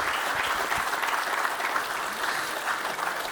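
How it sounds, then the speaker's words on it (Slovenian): Audience applause at a gala honouring a long career, a dense, even patter of many hands clapping at moderate volume that carries on steadily throughout without a break. "En aplavz, prosim."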